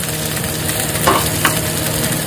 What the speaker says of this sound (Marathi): थोडं स्लोवरती आम्ही करतोय कारण स्लोवरती चांगले मित्रांनो शेकले जातात आणि चांगले फ्राय होते